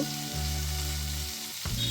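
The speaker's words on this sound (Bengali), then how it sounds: "গ্যাসের ফ্লেমটা মিডিয়ামে রেখে সবজিগুলো দু তিন মিনিট ভেজে নেব" Chopped beans and peas frying with rock salt in a pan over a medium gas flame, a steady close sizzle running throughout with a brief stirring scrape near the end, no talk.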